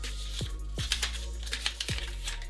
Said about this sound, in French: On va déballer les vrais.